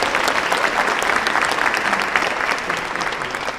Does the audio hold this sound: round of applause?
yes